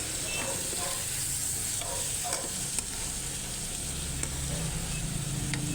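Beaten egg hits a hot pan of sautéed bitter gourd and sizzles steadily. Continuous frying crackle is heard close up, with a spatula stirring and scraping through the mixture.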